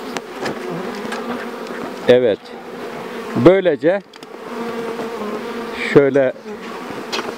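Honey bees buzzing steadily around a traditional log hive during a honey harvest in Korualan (Gezlevi), a Turkish village, a dense close hum throughout while someone speaks Turkish over it and sharper tonal whines flare up several times.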